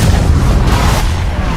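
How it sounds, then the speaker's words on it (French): A floating island exploding in Fortnite Chapter 1: a continuous loud, deep rumbling blast that fills the whole moment with no pause, dense low-end roar and hiss. "L'île flottante explose, ne laissant que le cube en lévitation au-dessus du vortex."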